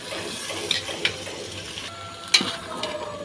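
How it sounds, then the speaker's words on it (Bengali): Vegetables with dried fish are stirred in a spicy broth, giving a soft steady bubbling and sizzling bed with a few light clinks of a utensil against the pot. "এখন ভালো করে উল্টাই পাল্টাই দিই মশলার ঝোলের সাথে, যাতে মিশাই যায়।"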